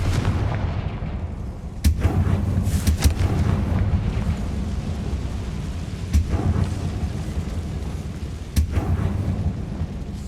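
Confringo blasting spell in Hogwarts Legacy, loud fiery bursts repeating at intervals over a rumbling background, with no talking.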